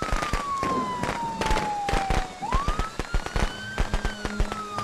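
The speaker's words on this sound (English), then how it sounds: "Damn it! Firecrackers!" Firecrackers pop in rapid irregular bursts in Friday The 13th: The Game, loud and close, with a wavering siren-like whistle running alongside.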